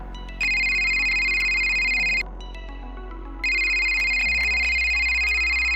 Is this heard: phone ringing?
yes